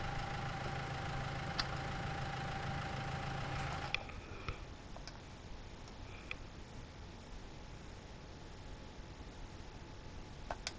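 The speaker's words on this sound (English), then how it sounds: "this other tractor here, the Steer 4115 Multi, I think I've said that right. This is also under small tractors." A Steyr 4115 Multi small tractor engine idles in Farming Simulator 19, a steady low drone for about four seconds before the tone drops away to quieter engine hum with a few clicks.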